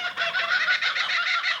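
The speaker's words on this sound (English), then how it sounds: "I love that bird call." A bird calling out in the bush on a nature hike, a loud, close, continuous run of raspy, rapid clucking and squawking notes lasting under two seconds with no talking.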